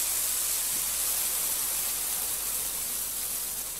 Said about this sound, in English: The sounds produced is a crackling, likely from the sponge itself, and the sound of the water basically boiling.